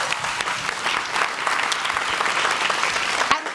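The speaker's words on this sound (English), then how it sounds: "Huge round of applause." Continuous, full applause from an audience at a talk as a guest walks on, steady and fairly loud across the whole stretch.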